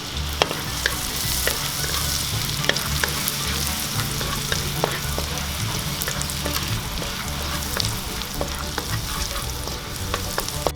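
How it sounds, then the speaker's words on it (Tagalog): Garlic sautéing in hot oil left over from frying eggplant, a steady crackling sizzle with regular scraping strokes of a spatula, close and continuous with no talking. "Ngayon pong mainit na po yung ating mantika, ay pwede na po nating igisa yung ating bawang."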